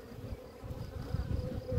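A dense, steady hum of many honeybees buzzing up close in a hive, droning continuously and growing slightly louder toward the end.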